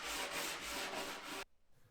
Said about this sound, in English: I like to clean up the cut edges with a light sanding.